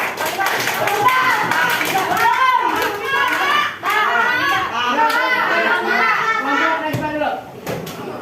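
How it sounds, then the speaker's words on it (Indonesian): Seventh-grade students in a classroom at SMPN 6 Banjarmasin clap their hands in scattered, loud bursts amid lively children's chatter and shouting, with a couple of sharp slaps standing out. "Beri tepuk tangan dulu."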